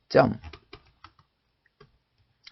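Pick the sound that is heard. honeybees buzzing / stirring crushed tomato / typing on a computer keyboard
typing on a computer keyboard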